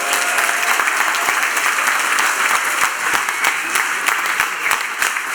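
Steady, loud applause from a large theatre audience at a stage show, dense clapping continuing without a break throughout.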